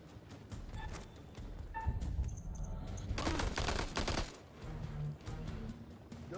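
Gunfire in the House of Ashes video game, with bursts of rapid shots and a dense volley mid-clip amid game ambience and effects.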